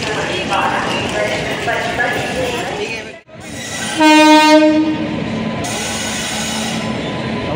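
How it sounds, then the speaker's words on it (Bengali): The Ananya Express pulls into a busy Kolkata railway station with a steady rolling rumble and clatter, then a loud, sustained horn blast midway through, over a constant murmur of crowd noise on the platform. "আমাদের আজমিরের ট্রেন ঢুকে গিয়েছে।"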